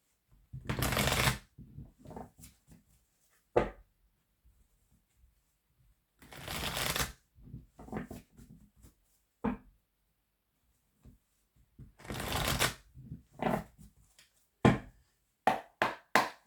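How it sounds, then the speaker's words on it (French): Oracle cards are shuffled in several separate bursts, each a dense riffling rattle lasting about a second. Sharp taps and knocks fill the quiet gaps between bursts, and no one talks. "on va aller voir avec l'oracle d'Annabella"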